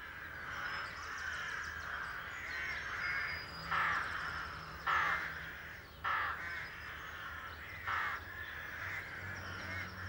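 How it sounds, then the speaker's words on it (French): Crows squabbling around their nests call out in harsh, repeated caws, several loud close bursts roughly every second or two over a busy background of other bird noise. "Ils n'arrêtent pas de se voler des brindilles de bois, de se poursuivre et de s'insulter en croassant."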